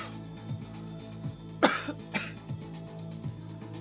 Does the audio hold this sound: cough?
yes